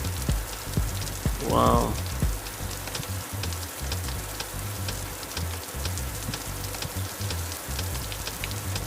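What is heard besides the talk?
rain falling on a car during a storm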